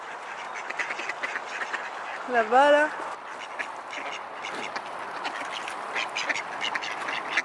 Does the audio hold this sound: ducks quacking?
yes